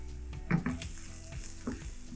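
Chilies being sautéed in a pan for keema-style curried corned mutton, with a faint low sizzle and a few soft stirring clinks, quiet and close.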